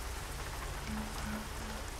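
Steady rain pattering over a truck in American Truck Simulator, a dense continuous hiss of drops on the surface with no talking.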